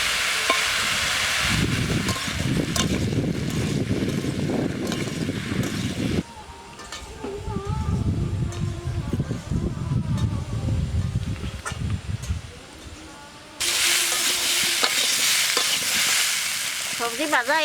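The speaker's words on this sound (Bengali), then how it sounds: "সবজি ভাজা হয়ে গেছে" Mixed vegetables with salt and turmeric sizzle and fry in a pan, with repeated bursts of stirring and scraping that stop and start, loud and close, with no talk.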